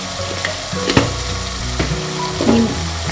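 Tomatoes frying in a pan with turmeric, a loud close sizzle with scattered crackles and a few sharp spatters, continuous and without speech.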